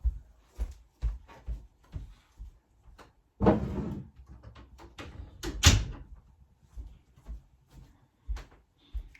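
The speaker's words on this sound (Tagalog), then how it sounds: "Isasara ko na lang po yung pintuan nitong kwarto na." A bedroom door swings shut with a firm thud partway through, surrounded by scattered knocks, taps and handling clatter in an indoor room.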